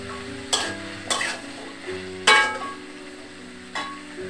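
Tangra fish curry with potato and eggplant, seasoned with a little turmeric, sizzling steadily in a pan, with four loud stirring scrapes at irregular intervals over the constant close frying hiss.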